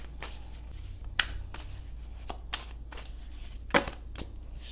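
Tarot cards are handled and shuffled close by in a run of quick papery riffles and soft slaps, a few sharper snaps among them, with no speech.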